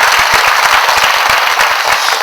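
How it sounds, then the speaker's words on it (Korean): Audience applause fills a church hall during a Friday-night testimony service, dense continuous clapping from a crowd with no voices on top, loud and steady throughout. "저 위에서 와서 용기 있는 저분들에게 박수 한번 보냅시다"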